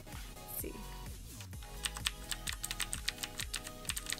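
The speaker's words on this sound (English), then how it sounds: "I wanted to get a new Razer RGB keyboard." Typing on a Razer RGB keyboard, a steady run of close, crisp key clicks with sharp individual strikes and a low background hum throughout.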